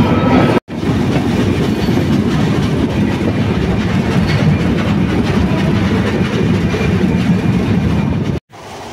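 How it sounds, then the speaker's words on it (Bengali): A passenger train leaves Kamalapur station in Dhaka. A loud, continuous rumble of rolling carriages carries a rhythmic clickety-clack from the wheels, with brief cut-outs near the start and end, and no voices. "ট্রেন ছেড়ে দিল ঠিক সঠিক সময়ে সকাল 8:15-য়।"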